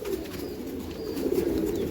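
Kaldam pigeons coo softly at a pigeon farm, a low continuous murmur of several birds close by.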